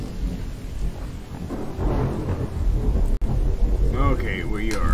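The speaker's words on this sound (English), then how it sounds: "Okay, we are headed out into the rain." Rain and rolling thunder in a survival video game, a steady loud downpour with low rumbles throughout and a few brief synthetic tones near the end.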